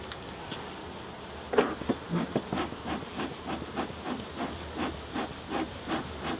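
Honeybees in an opened hive, seven frames of bees under the crown board, give a low steady hum and buzz while a series of sharp clicks and knocks from handling the frames sound close by.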